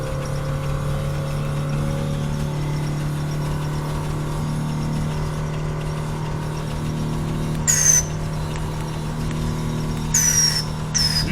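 A car's exhaust, fitted with added valves, hums steadily at idle up close, broken twice by short, high descending whistles.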